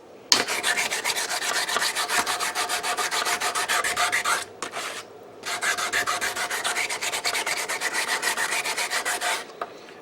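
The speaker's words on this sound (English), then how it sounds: "So next thing is just to wet sand everything and then drive the pins in" Steady rhythmic rasping of wet sandpaper worked back and forth over a Micarta handle on a Cold Steel jungle machete, close and continuous with one short pause midway.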